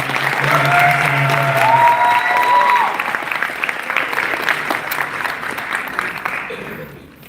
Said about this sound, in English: just again, a huge round of applause